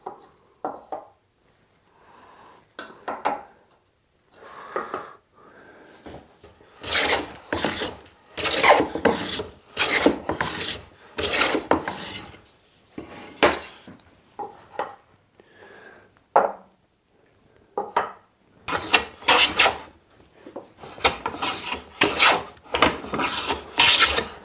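A hand plane shaves wood for a ski rack, cutting against the grain. The result is a long run of close, rasping strokes, some short and some sustained, separated by brief pauses and growing busier and louder toward the end.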